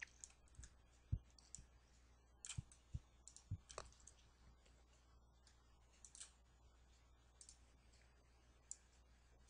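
Computer mouse clicks from a teacher working in ActivInspire software, quick sharp isolated clicks scattered irregularly across an otherwise quiet room, some in short pairs.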